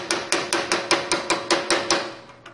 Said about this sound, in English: what we're going to use is a chisel like this with our ball peen hammer